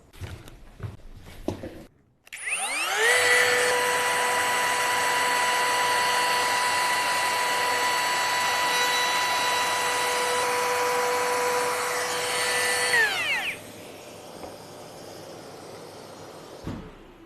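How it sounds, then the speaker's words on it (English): A Bosch 18V cordless palm router with a 6mm roundover bit and dust extraction spools up to a loud, steady high-pitched whine for about ten seconds while cutting along a wood edge, then winds down. "we're all set up with a 6mm roundover bit and the dust extraction for edge routing"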